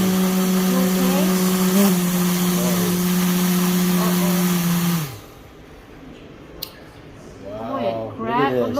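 An electric nail drill runs with a steady high whine and strong harmonic tones for about five seconds, then cuts off abruptly, followed by quieter handling noise and people talking.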